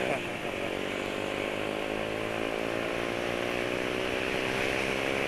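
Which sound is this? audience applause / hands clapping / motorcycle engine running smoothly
motorcycle engine running smoothly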